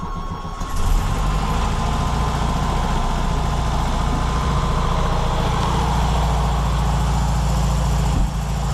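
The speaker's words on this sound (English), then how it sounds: "this Bug is pretty good about starting up in the morning or when it's a cold day" 1970 VW Beetle with stock muffler on a cold start, the engine catching just under a second in and settling into a loud, steady, close idle rumble that holds to the end.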